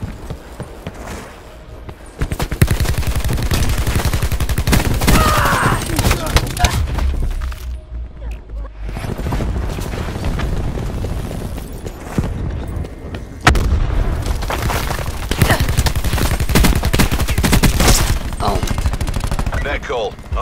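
A Peacekeeper gun fires in the Black Ops 4 video game, with loud rapid bursts of gunfire and booms nearly throughout, a couple of brief lulls, and in-game voices calling out over the shooting.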